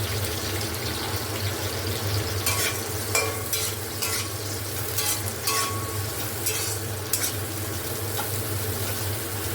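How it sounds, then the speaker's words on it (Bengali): Bitter gourd fries in a pan with a steady sizzle and occasional stirring scrapes, bursts of louder spitting and clatter over a constant low kitchen hum, with no talking. "এখানে উচ্ছেগুলো একটু ভেজে নেব।"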